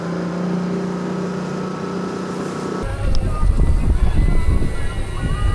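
A boat engine at full throttle far offshore on a swordfishing trip, a steady low drone that abruptly swells into a loud, rough, broadband roar halfway through and holds there.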